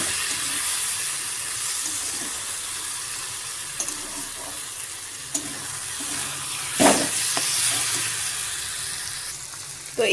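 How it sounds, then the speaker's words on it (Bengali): Spice paste frying for a vegetable curry of ridge gourd stems, radish, potato and lentil dumplings, a steady close sizzle with a few scraping stirs and clinks. "মশলাটা এখন ভালো করে ভাজতেছি"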